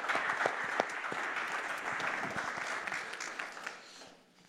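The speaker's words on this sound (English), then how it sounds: "let's give them a round of applause." An audience at a keynote event breaks into a steady round of clapping that holds for several seconds at moderate volume before tapering off at the end.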